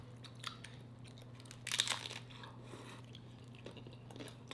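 Close, crisp crunch of lettuce bitten and chewed in one short burst of a few crackling bites, then only faint room hum and small mouth noises.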